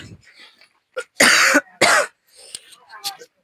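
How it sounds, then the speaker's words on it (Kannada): Two loud, harsh coughs in quick succession from a person on a tiring trek up Pavagadh toward a hilltop temple, surrounded by quieter murmurs of talk and a few faint clicks. "ನನಗ್ ಬೇರೆ ಕೆಮ್ಮು ಇದೆ."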